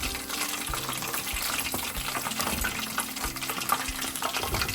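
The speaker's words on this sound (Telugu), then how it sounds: "అండ్ దెన్ ఆనియన్స్ ఇవన్నీ ఫుల్ ఫ్రై అయిపోయి మంచిగా గుమ్మలాడుతుంది అన్నమాట." Onions fry in hot oil with a dense, continuous bubbling sizzle that stays loud and close throughout, no voices present.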